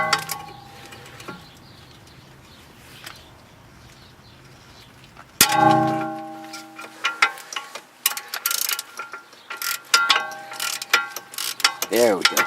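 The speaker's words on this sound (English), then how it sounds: "I like to get them loose with hand tools" Hand tools work loose the inner CV joint bolts on a VW Passat or Audi axle, giving metallic ratchet clicks, clanks and tool knocks up close, sparse at first and then busier and sharper in the second half, with no talking.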